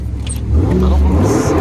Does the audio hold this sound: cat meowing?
no